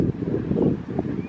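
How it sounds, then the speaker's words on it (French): Wind gusts buffet the microphone outdoors on a city street near a market, a fluctuating low rumble that rises and falls in soft, uneven waves throughout. "Il y a un peu de vent."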